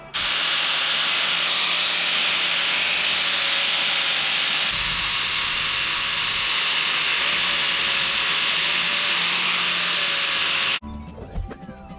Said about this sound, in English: I'm going to take a grinder to those.